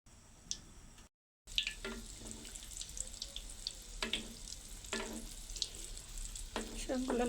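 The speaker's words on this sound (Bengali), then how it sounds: "তেলটা গরম করে নিছি, এখন এটার মধ্যে আমি দিয়ে দেব।" Stuffed sweet potato pieces drop into hot oil and fry with a steady, moderately loud crackle and sizzle, broken by a short silent gap and brief clinks of a utensil.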